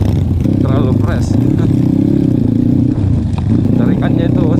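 Motorcycle engine revving on a rough, weather-worn trail, a loud close rattling drone with bursts of throttle, while someone talks over it.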